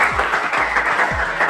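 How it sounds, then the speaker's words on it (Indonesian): A classroom group applauds a student in a brief, loud burst of steady clapping from many hands, with no talk over it. "Tepuk tangan untuk Noval"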